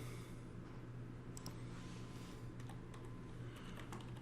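Quiet, scattered keystrokes tap on a computer keyboard at close range, irregular clicks over a low background hum.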